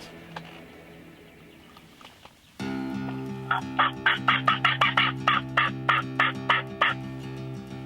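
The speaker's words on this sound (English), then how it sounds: "They're about 400 or 500 yards gobbling like crazy." Wild turkeys gobble from some 400 to 500 yards off, a quick series of about a dozen rattling gobbles in bursts over a low steady background hum.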